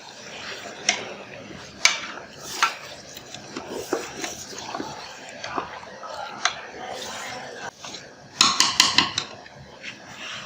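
Spoon scraping and clanking against a cooking pot while 4 kg of beef is stirred for beef korma, irregular metallic knocks and scrapes, close and moderately loud, with a few sharper bangs near the end.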